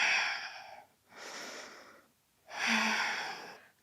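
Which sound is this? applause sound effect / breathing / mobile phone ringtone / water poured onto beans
breathing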